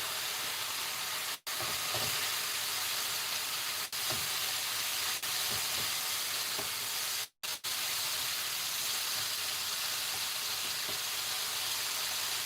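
Two cloves of minced garlic frying in a pan for chicken stroganoff: a steady, dense sizzle and hiss holding throughout, close and fairly loud, with brief dropouts and faint clinks, no talking.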